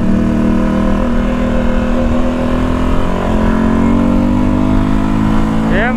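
A motorcycle, either a CB Twister 300F or a Sahara 300, runs with a loud, steady engine drone close by, its pitch rising slowly, while someone talks over it.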